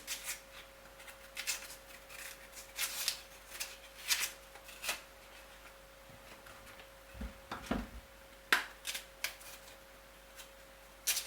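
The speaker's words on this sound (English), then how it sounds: "A little bit of a cut, and then I lift up the skin with a knife." A knife nicks and lifts the skin off raw cassava root at home, giving a run of faint, scattered scraping ticks and short rustles with brief pauses, close by and quiet, with no talking.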